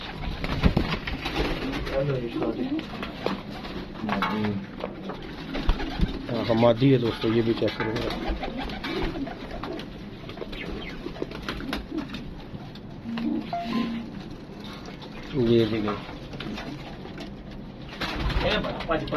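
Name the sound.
pigeons cooing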